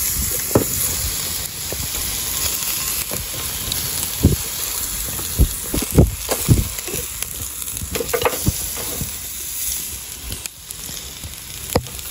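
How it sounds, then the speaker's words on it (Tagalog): Barbecue sizzles on a grill with a dense, steady crackle of frying and scattered sharp pops and spits, close and continuous throughout with no voices. "So habang naghihintay tayo maihaw, malapit na rin maluto to mga pare Koy."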